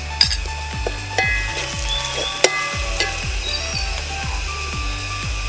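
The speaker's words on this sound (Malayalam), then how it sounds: "ഇഞ്ചി വെളുത്തുള്ളിയും പച്ചമുളകും കൂടിയിട്ട് ഒന്ന് ഇട്ട് വഴറ്റാം." Ginger, garlic, green chili and onion sauté in a pan with turmeric for a Kerala-style beef lappa, giving a steady close sizzle broken by regular spoon scrapes and light clinks about once a second, with no talking.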